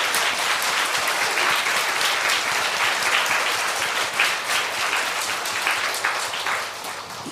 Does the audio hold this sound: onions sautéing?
no